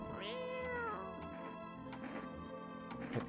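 A cat in the video game No, I'm Not A Human gives one rising meow near the start, then steady clock-like ticking continues quietly on its own.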